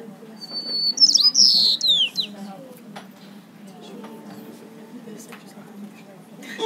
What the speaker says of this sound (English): I'm going to play a normal white-crowned sparrow